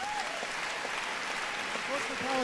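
An audience applauds after a slam talk, with steady dense clapping throughout and a voice talking over it.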